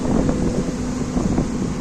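Strong seaside wind at Mandarmani buffets the microphone with a steady, loud, rumbling roar that stays constant throughout, with no other distinct sounds.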